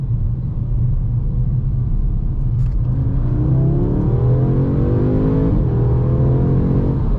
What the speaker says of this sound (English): We'll get it up to 25 and punch it.